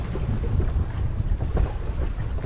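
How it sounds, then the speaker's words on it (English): Wind gusting over a small boat at sea, a steady rough rumble with buffeting bursts against the microphone, no voices. "It is blowing, a little bit of wind"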